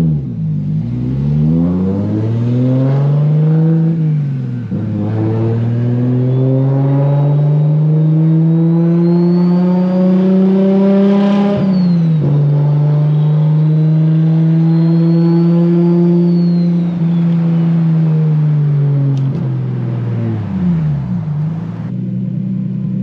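A Nissan R34 GT-R with its RB26 engine, fitted with a new exhaust resonator, revs up and holds high in long smooth pulls, dropping briefly between them, loud and close throughout.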